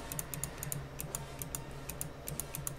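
Rapid mouse or key clicks while playing Day Shift at Freddy's, a quick irregular run of sharp taps, close and fairly quiet, with a low hum beneath and no talking.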